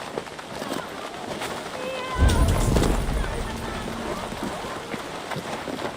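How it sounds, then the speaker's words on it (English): Horses neighing and stamping hooves in the video game Assassin's Creed Valhalla, with whinnies over a soft rainy ambience and a louder low rumble of movement in the middle. "The horses can feel it too, neighing and rolling their eyes"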